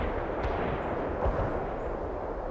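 Heavy artillery strike in World in Conflict, a steady rumbling barrage of distant booms and blasts that rolls on continuously, with one sharper impact standing out partway through.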